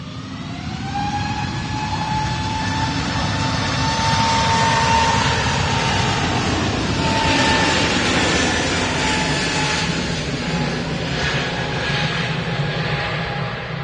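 An Airbus A320neo jet airliner at Manchester Airport makes a loud, continuous engine roar with a sustained whining tone that slowly shifts in pitch. The roar holds steady throughout.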